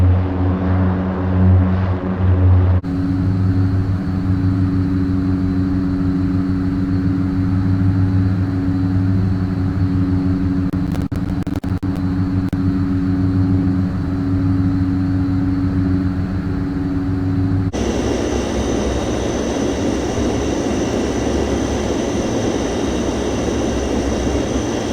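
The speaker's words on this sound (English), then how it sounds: "The Fokker WW1, shown here, was a single-seat fighter aircraft used in World War I" Engine of a Fokker WW1 single-seat fighter aircraft in Microsoft Flight Simulator, a steady droning hum held at even loudness throughout, its tone shifting twice as the view changes, with no voices.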